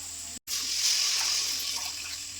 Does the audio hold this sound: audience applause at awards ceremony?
no